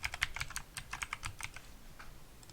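A computer keyboard is typed on in a quick, close burst of clicking keystrokes over a couple of seconds while a folder name is entered, with no talking.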